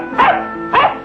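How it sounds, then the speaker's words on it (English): Two sharp, high barks from a puppy, close by, spaced about half a second apart. "The puppy's barking frightened the soldier's horse."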